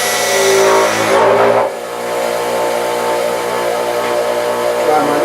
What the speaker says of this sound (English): Clean it up on the wire wheel.